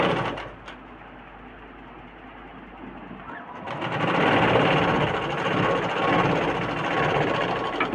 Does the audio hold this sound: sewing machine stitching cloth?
yes